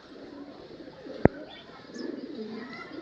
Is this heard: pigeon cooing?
yes